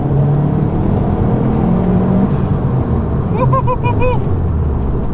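A 2005 Subaru Impreza WRX STi fitted with a Grimmspeed JB400 chase turbo pulls hard in fourth gear, its loud steady engine roar slowly climbing in pitch, with brief high chirping tones near the end.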